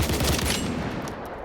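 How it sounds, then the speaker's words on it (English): Rapid automatic blasts from a Saiga shotgun in the video game STALKER, dense overlapping shots dumping a full magazine in about half a second, then trailing off into fading echo. "You can dump the entire magazine in less than 2 seconds."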